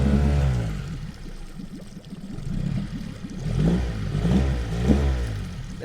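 A Mercury 60 outboard on a 2005 Jetcraft 1625 boat runs with the choke on, a close, uneven idle with rumbling pulses and water splashing, and no talk.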